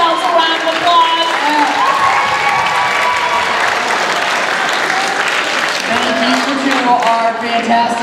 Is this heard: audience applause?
yes